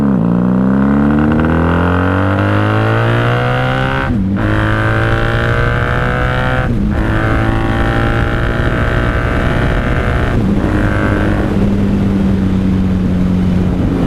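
A 1994 Honda Magna 750 motorcycle being ridden, its engine droning steadily and loudly up close, pitch rising through the gears with brief dips at each shift.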